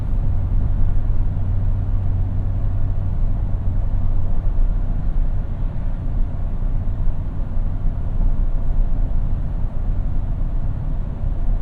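Steady cabin drone of a 2017 Toyota Tundra SR5 4x4 TRD Off Road pickup on the move, a constant low engine and road rumble with broadband tire and wind hiss, loud and unbroken with no talking.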